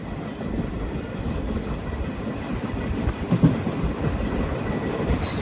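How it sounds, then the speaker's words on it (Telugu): An ICF-coach express train on the Visakhapatnam–Machilipatnam run rolls at steady cruising speed, with a continuous loud rumble and rhythmic clickety-clack of wheels heard from inside the carriage, no voices. "ఇది మన ట్రైన్ క్రూజింగ్ స్పీడ్ ప్రస్తుతానికి"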